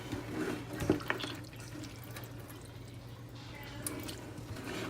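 Water runs and drips from squeezed cooked meat while making carne guisada in a kitchen, a steady trickle with a low background hum.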